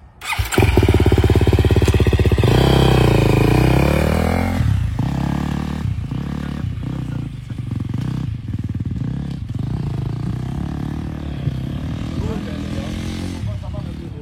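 Dirt motorcycle revving loudly as it rides through sand, engine roar strong at first then settling into a steady drone with throttle surges, voices talking over it.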